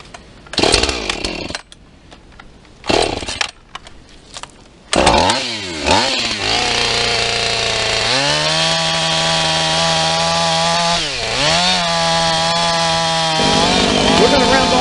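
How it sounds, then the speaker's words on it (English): A chainsaw cuts and rounds off a deer skull staked to the ground with a bungee cord, starting with a few short bursts, then running in a long, loud, steady whine that dips briefly under load. "We got the chainsaw out."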